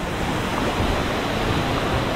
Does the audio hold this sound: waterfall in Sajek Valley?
yes